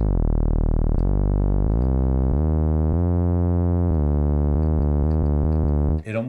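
Synthesizer tone glides between notes with portamento, a bright buzzy sustained sound whose pitch slides quickly from step to step, loud and alone.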